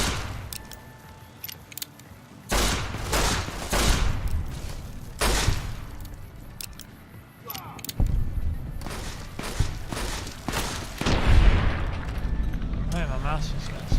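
Gunfire in Fallout: New Vegas, bursts of loud shots with pauses between volleys, heard under someone talking over the fighting.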